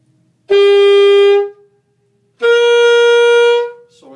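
Saxophone plays two sustained, reedy notes with a pause between them, loud and close, in a phrase from the Mardi Gras tune "The Second Line".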